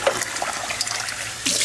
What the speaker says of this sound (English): we're gonna rinse this off one more time